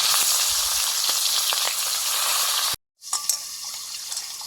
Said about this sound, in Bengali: সর্ষের তেল দিলাম পাঁচ মেশালি সবজিটা রান্না হবে ইলিশ মাছের মাথা দিয়ে ইলিশ মাছের মাথা নুন হলুদ লঙ্কা গুঁড়ো মাখিয়ে দিয়েছি ভেজে নিচ্ছি এখন